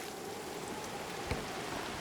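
Rain in the video game Gord, falling as an even, steady patter and hiss across the whole stretch, with one faint knock partway through.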